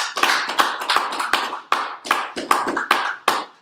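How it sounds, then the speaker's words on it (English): A small group clapping for a speaker at a gathering, a handful of sharp, close, uneven claps that come in loose bursts with short gaps between them. "Clap up for the brother."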